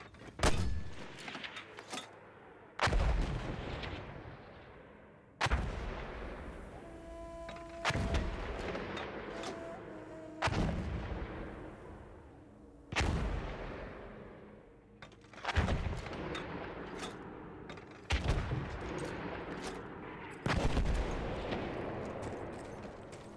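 Mortar fire in the video game Battlefield 1, a series of about nine heavy booming blasts spaced a few seconds apart, each decaying into a rumbling tail, fairly distant and without talk.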